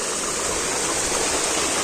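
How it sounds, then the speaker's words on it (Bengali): Water from a waterfall in Alikadam, Bandarban pours down in a loud, unbroken rushing roar close by, with no voices. "ঝর্ণার পানি পড়ার আওয়াজ পাওয়া যাচ্ছে প্রচুর"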